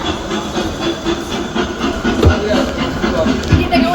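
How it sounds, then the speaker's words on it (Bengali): A train engine runs with a steady, fairly loud rumbling hiss and faint rhythmic clatter, continuous throughout, with a few soft knocks near the end. "ট্রেন চালু হয়ে গেছে, ইঞ্জিন চালু হয়ে গেছে"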